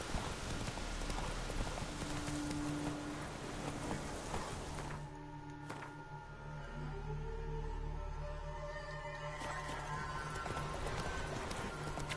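A horse gallops in the Velen region of a video game, with steady rhythmic hoofbeats under game music and ambience that thins out partway through.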